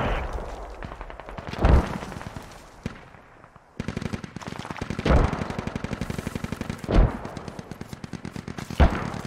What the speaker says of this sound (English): Okay, I'm gonna walk mortars onto this, your MTLB. Mortars are hitting it.